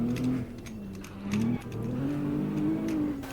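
An Alfa Romeo Giulia on drift tires runs on a track with traction control off, its engine droning steadily and pitch shifting as it eases off and picks up again, heard from inside the car with no speech.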